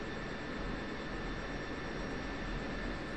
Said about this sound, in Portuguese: Essa é a chuva batendo no coque, na carlinga.